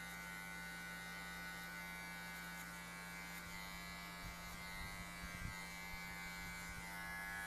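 Electric hair clippers buzz steadily and quietly while cutting a taper fade, with a constant hum and faint irregular brushing sounds against the hair toward the end.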